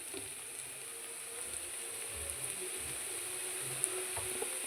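A sautéed mix for kuzhi paniyaram fries in a pan with a faint, steady sizzling hiss and an occasional tiny pop, with no talking.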